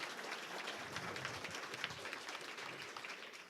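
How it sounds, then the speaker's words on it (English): An audience at a 2018 Democratic congressional debate in Culpeper, Virginia applauds, a steady, faint wash of clapping from a crowd heard from a distance. "this one time you can clap"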